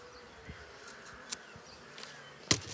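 Honey bees buzz steadily around a hive frame being moved from a Dadant-Blatt hive to a standard Ukrainian frame, with a few sharp clicks and knocks from handling close by.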